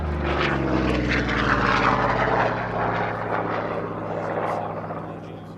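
A Corsair propeller fighter drones past overhead at the Duxford air show, its engine a loud sustained growl that swells and slowly fades, with a voice talking over it.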